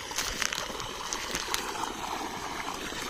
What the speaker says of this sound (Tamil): தண்ணி வர சவுண்டு கேட்குதுங்களா?